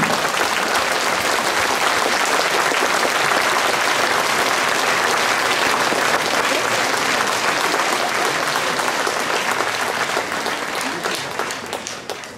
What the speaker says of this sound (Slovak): Poprosím ešte raz veľký aplauz pre aranžera Michal Jániš!